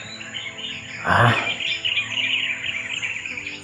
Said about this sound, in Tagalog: Umawit yung mga ibon.